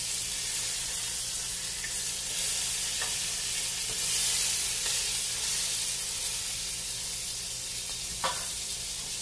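Pork sizzles and fries in a hot pan with a steady, bright hiss and occasional pops, close and continuous without speech.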